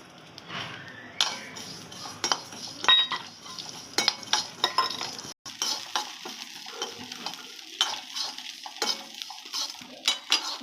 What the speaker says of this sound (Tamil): எள்ளு நல்லா வறுத்தாச்சு படப்படம் பொறிஞ்சிச்சுன்னா எள்ளு வருந்து வறுத்துன்னு அர்த்தம்